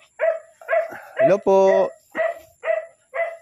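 A dog barks repeatedly nearby in a string of short, evenly spaced yaps with one longer bark, while a person briefly says a greeting.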